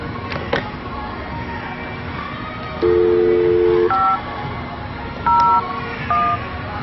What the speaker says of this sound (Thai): เดี๋ยวเราจะมาลองโทรวิดีโอคอลกันดูนะคะ